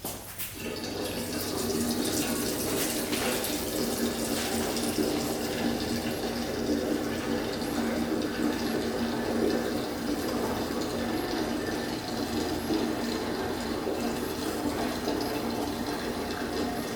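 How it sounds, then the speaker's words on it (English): A 40-to-1 two-stroke fuel mix pours steadily into the tank of a 1965 scooter that sat unused for over 40 years, a continuous close liquid gurgle with no talking. "Got some 40-to-1 mix. Let's dump it in and see if it leaks here."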